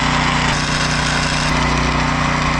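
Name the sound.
welding the boat trailer actuator in place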